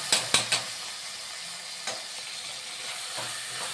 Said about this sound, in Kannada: ತೊಳೆದು ಇಟ್ಕೊಂಡಿರೋ ಕೊತ್ತಂಬರಿ ಸೊಪ್ಪು, ಪುದೀನ ಹಾಕೋಣ.